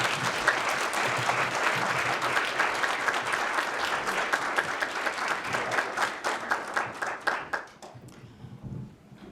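An audience at a Black history ceremony in Meadville applauds in a dense, sustained burst of clapping that thins out into scattered claps near the end, with faint voices underneath.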